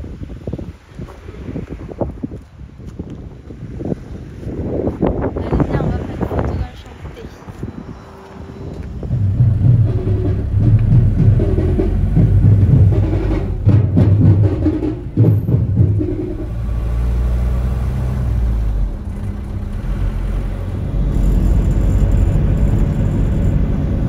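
Gusty wind buffets the microphone, then a low boat engine rumble on the Kerala backwaters settles in and drones steadily underneath for the rest of the clip.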